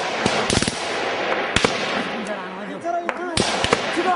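Gunfire rings out as sharp, loud cracks, some single and some in quick bursts, spread over a few seconds, with excited voices talking between the shots.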